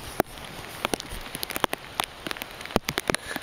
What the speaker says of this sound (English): you can't actually see the rain falling